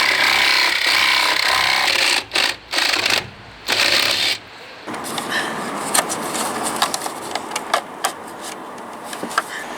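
A uPVC soffit board is trimmed with a cutting tool, giving a few loud bursts of rasping cutting that stop and start, followed by quieter scraping, tapping and handling noises close by.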